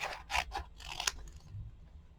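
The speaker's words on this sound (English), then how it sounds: "So I'm going to cut this in half." Scissors slice through a sheet of washi stickers in a few quick, close snips with a papery rasp, then quiet room tone.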